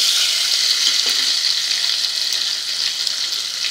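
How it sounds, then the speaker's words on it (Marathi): Ginger-garlic paste frying in hot oil for kokam dal, a loud, dense, continuous sizzle close up with only faint stirring and no voices. "तेलात असं छान परतवायचं आहे."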